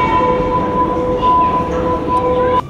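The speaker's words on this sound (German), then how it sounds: "hat Mina schon die U-Bahn-Haltestelle erreicht" An U-Bahn subway train hums at a station with a steady tonal whine and rumbling wheels, fairly loud and near, ending with a sharp clunk.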